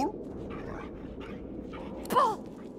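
Dogs bark and yelp in a short burst in Divinity: Original Sin 2, with a sharp louder bark near the end over a steady low background.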